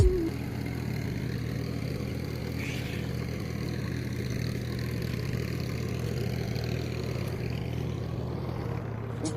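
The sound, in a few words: tractor ploughing a farm field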